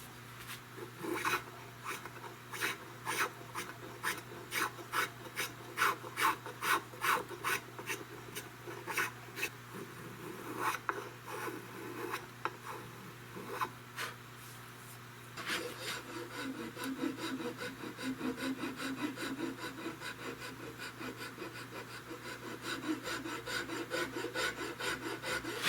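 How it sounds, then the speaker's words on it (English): A metal file rasps against a shotgun stock during a 16-gauge European Guild gun makeover, giving steady, close rhythmic strokes that run on for many seconds, then turn into a denser, continuous scraping. "What you're hearing is I'm touching that metal. This is actually a metal file."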